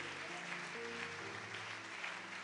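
A church congregation applauds together in praise, a steady wash of clapping held at an even level for a couple of seconds, with faint sustained tones beneath.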